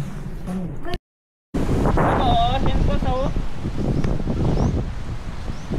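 Gusty morning wind in Boracay buffeting the microphone with a roaring, rustling wash, briefly cut by a gap of silence, with people talking and birds chirping faintly beneath.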